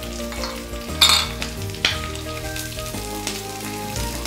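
Sliced onions and green chillies sizzle steadily in a hot pan for capsicum potato, with a few sharp stirring clatters of a utensil against the pan and no talking.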